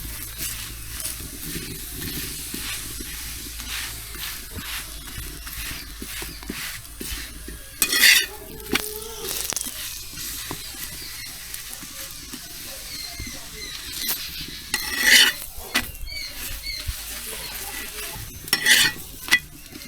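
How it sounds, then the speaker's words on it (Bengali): Parathas frying in a little oil in a pan, a steady low sizzle and hiss running throughout, broken by a few louder scraping and clattering bursts from a spatula against the pan. "এখন পরোটাগুলো হালকা করে তেলে ভেজে নেবো। অল্প অল্প করে তেল দেবো আর পরোটাগুলো সেঁকে নেবো"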